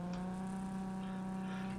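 Cyberpunk video game car noise, a steady droning engine hum with a strong low tonal whine held at an even level throughout, no speech over it.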